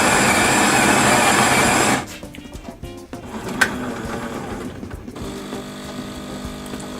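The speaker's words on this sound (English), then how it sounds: "I simply press the button that says espresso." A Jura WE8 coffee machine brewing an espresso, with a loud steady pumping whir for about two seconds, then a quieter mechanical hum with a few clicks and drips, close by, without talk.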